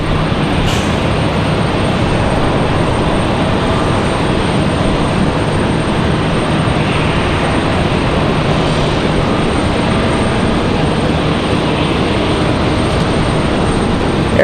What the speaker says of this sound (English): Air Canada back to Toronto. This CRJ.